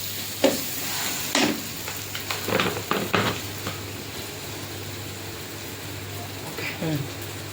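A spoon stirs turmeric and Kashmiri chili powder as they fry in oil for a paneer curry. There are soft scrapes and a gentle sizzle, with a few louder strokes near the start and another near the end over a steady low hum.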